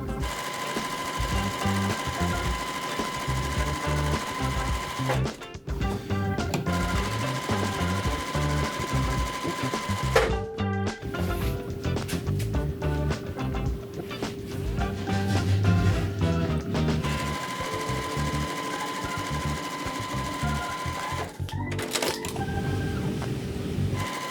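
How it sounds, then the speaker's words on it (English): A sewing machine stitches half-square triangle quilt blocks sewn right sides together, running in a steady, loud mechanical whir with a few brief pauses and restarts between seams. "I'm gonna go ahead and sew them right sides together"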